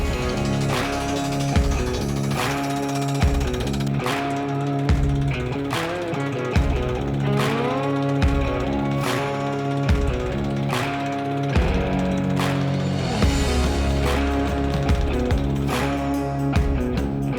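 Drilling rig pounding steel well casing pipe into the ground at Cerro Gordo, a steady loud mechanical hammering with regular heavy strikes and grinding machine drone, no talking.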